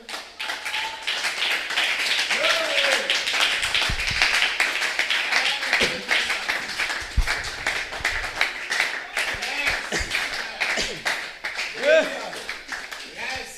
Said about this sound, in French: Maïgodo, on acclame.